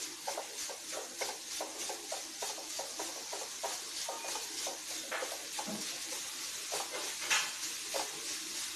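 Banana and melting sugar are stirred in a frying pan, giving soft, rhythmic scraping strokes over a faint continuous sizzle, quiet and close with no talking.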